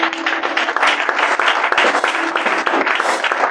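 An audience at a church seminar claps steadily in loud, dense applause, sustained evenly throughout with no pauses.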